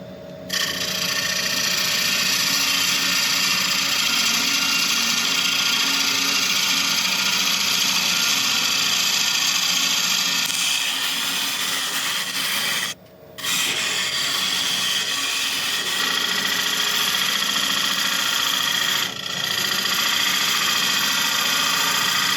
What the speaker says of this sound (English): So I'm just trying, using the same tool, work up the side again, but slightly slower with a push cut